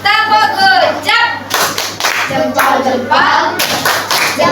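A classroom of fifth-grade children claps out a rhythmic group cheer, bursts of hand claps in a patterned beat close by, mixed with a teacher's voice and children chanting.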